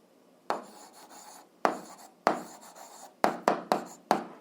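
Pen writing out an algebra solution on paper: a series of close, distinct scratchy strokes, first spaced apart and then coming in a quicker run of short bursts, with quiet gaps between and no talking.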